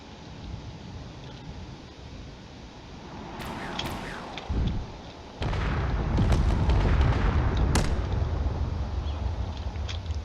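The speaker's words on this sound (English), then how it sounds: "You can see some of these missiles are already starting to get hit with the terrain" Missiles slam into rocky terrain during a space battle in a video game, producing deep booming blasts that swell into a sustained rumbling roar over a steady background drone.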